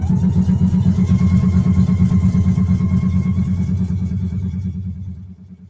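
A sewing machine stitches fabric in a fast even rhythm of mechanical pulses, close and continuous, before it slows and stops near the end.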